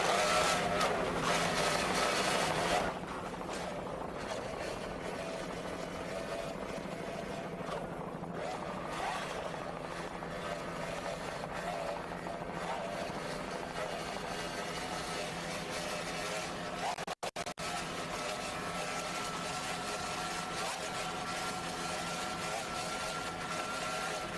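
Offshore racing powerboats with twin 2.5 EFI outboard engines throttling during a 1993 Fort Lauderdale offshore race, a steady distant engine drone that continues throughout under wind and ambient noise.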